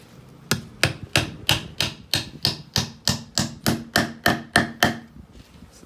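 A hammer drives a nail into a wooden dragon fruit trellis with about fourteen sharp, evenly spaced blows, loud and close, with no talking.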